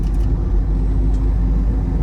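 Steady low rumble of a Ford Endeavour's 3.0 litre engine pulling under acceleration, heard from inside the cabin during a shift from third to fifth gear, loud and continuous throughout.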